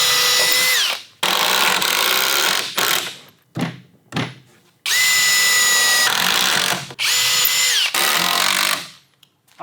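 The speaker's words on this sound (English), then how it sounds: "finish putting in these screws" Cordless drill driving screws into a wooden staircase during installation, several loud whirring bursts of a second or two each, separated by brief pauses and a few small knocks, close by with no talking.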